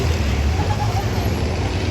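Several school buses racing closely in a figure 8 at the Freedom Factory give a continuous, loud, low engine drone with road noise, steady throughout with no clear breaks.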